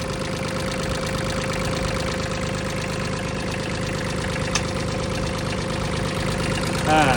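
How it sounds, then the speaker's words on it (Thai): An old Iseki Sial 5 three-cylinder farm tractor with a rotary tiller, its diesel idling steadily close by in a continuous even knocking chug that holds level throughout. "เครื่องแน่นๆครับไม่มีไอระบายนะครับ"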